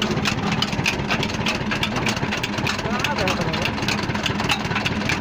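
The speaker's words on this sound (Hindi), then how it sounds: "देखिए मशीन भी है देखिए नीचे जनरेटर लगा है" A generator runs beneath a rice flaking (chura) machine, a steady mid-low engine drone holding at a constant level throughout while people talk over it.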